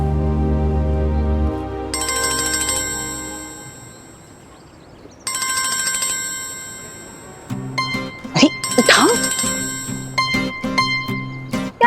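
A mobile phone ringtone plays loud and close in repeated melodic bursts, pausing briefly between rings, with a voice talking over part of it.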